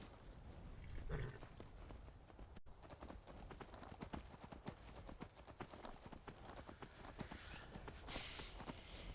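Steady horse hooves clip-clop at a walking pace throughout in the video game Skyrim, close and fairly loud, with a brief whinny early on and no talking.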